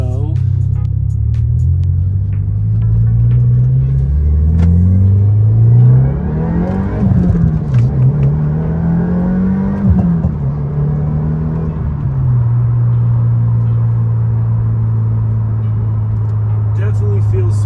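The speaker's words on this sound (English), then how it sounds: "We'll give some room for this car to go." A 2022 Subaru WRX engine with a Fluidampr damper and Perrin crank hub rumbles loudly up close, revving up and down through several gear changes before settling into a steady drone as the car drives away.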